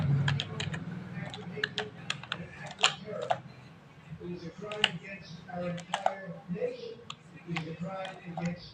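Typing on a computer keyboard: irregular bursts of crisp key clicks, close and fairly loud over a low background hum, with quieter gaps and faint traces of a voice.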